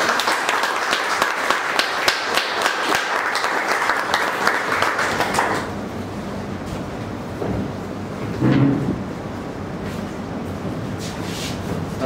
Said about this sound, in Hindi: तो हमारे लीडर के लिए स्वागत करेंगे ताली से